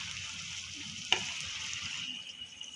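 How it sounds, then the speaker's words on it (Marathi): Coconut-filled karanji pastries frying in hot oil, a steady continuous sizzle with a brief sharper crackle midway, no talking. "हलका सोनेरी रंग येईपर्यंत आपल्याला तळून घ्यायच्यात करंज्या."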